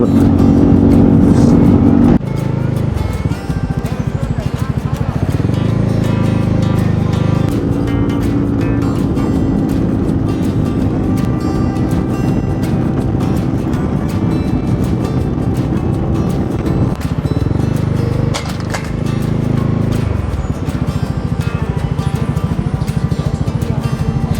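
Motorcycle engine droning steadily while riding a rural road through Kanchanaburi toward Thong Pha Phum, with wind rush and shifting engine pitch throughout, loud and close.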